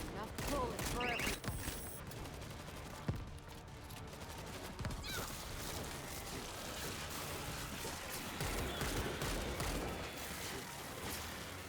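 Rapid gunfire in the zombie shooter World War Z, dense bursts of shots and mechanical clatter running throughout at moderate level, with a player talking over part of it.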